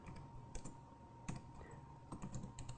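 Soft, irregular typing on a computer keyboard, scattered key clicks and small bursts, faint against a low steady hum.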